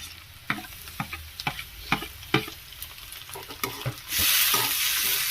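Tomato stirred into onions frying in a pan, with a series of sharp spatula taps and scrapes over a low sizzle, then a sudden louder hiss of frying near the end, close and without speech.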